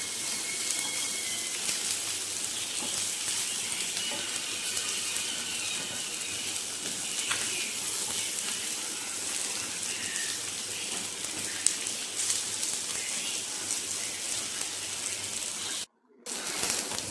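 Fish pieces frying in a pan with chopped onions, a soft continuous hiss and sizzle at moderate level, steady throughout with a brief dropout near the end.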